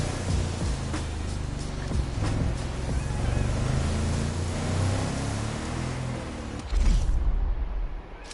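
A motorboat speeds across ocean waves off Maui in The Crew Motorfest, its engine droning steadily under constant wind and hissing water spray, with a louder surge of splashing near the end.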